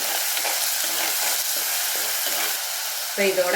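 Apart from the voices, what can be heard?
onions sautéing in a pan for fish curry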